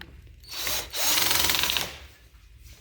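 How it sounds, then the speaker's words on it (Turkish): Power screwdriver driving screws into the hinge side of a cabinet, a whirring motor buzz rising for about a second, fading, then a louder steady run of just under a second, close by. "Menteşeli olan kısımdan vidaları atıyoruz."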